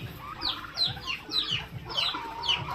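Rhode Island Red chickens cluck close by in a farmyard, a series of repeated short clucks and rising calls coming roughly twice a second over faint background noise.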